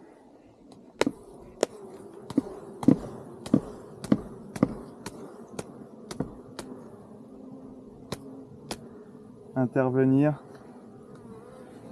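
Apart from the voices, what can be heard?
honeybees buzzing at a beehive during inspection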